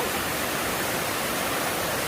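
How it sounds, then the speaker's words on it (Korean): Bongnae waterfall on Ulleungdo island, a three-tiered falls, roars with a dense, steady, full-bodied rush of falling water, loud and unbroken throughout with no voices. "울릉도에 있는 동네 폭포에 왔어요"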